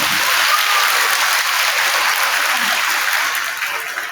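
An audience at a fourth-grade school awards day bursts into applause for a class, loud dense clapping filling the room, holding steady before starting to thin out near the end.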